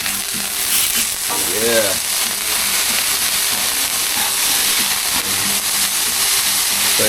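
Burger patty frying on a hot surface, a loud steady close sizzle and hiss throughout, with a brief voice and a short tonal whine partway through.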